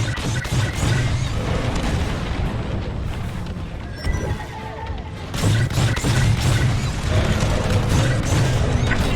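A corvette takes heavy fire in Star Wars: Squadrons, loud rumbling booms and crashing impacts piling up continuously, with a brief dip in the middle before the barrage swells again.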